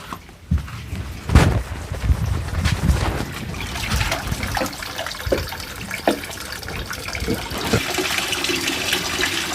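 Clothes are hand-washed with soap and plenty of water, giving irregular splashes, sloshing and trickling with sharp wet slaps scattered throughout at close range.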